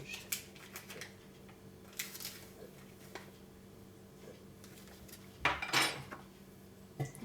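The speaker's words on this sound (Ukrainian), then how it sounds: "змішуємо з чайною ложкою сухих дрожжів" Light clinks of a teaspoon stirring dry yeast into warm water in a cup or bowl, scattered and quiet over a low steady background hum.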